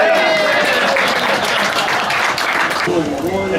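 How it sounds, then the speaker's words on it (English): Wedding guests applaud for the best man at a reception, a dense, steady clapping that holds for several seconds with crowd noise and bits of voices mixed in. "So if we're going to get a round of applause, please, for Greg Brady."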